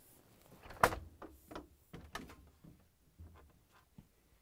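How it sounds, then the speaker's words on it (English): GE refrigerator fresh food compartment doors opening: a sharp click, then several soft thumps, rubbery seal sounds and light knocks over a few seconds, quiet and close. "To get to the part, we need to open both fresh food doors."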